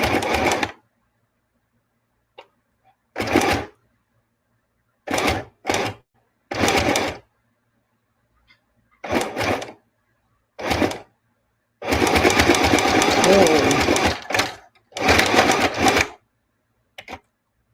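A sewing machine runs in a series of short stop-start bursts with silent gaps, then one longer steady stitching run near the end.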